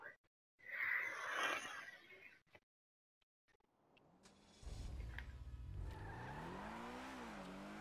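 A Truffade Nero sports car in GTA Online starts with a burst of noise and brief quiet, then the engine note rises into a loud, sustained rev that climbs and dips in pitch as it accelerates.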